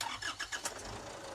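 Isuzu tow truck engine cranking over to start, a short run of rhythmic broadband bursts settling into a steady engine rumble, fairly quiet and close with no talk.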